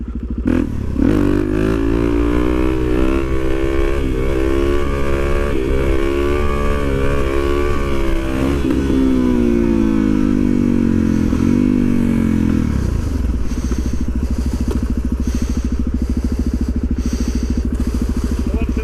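A motorcycle doing wheelies in a parking lot revs hard and close, its pitch climbing and falling in long sustained pulls, with some clatter and scraping underneath.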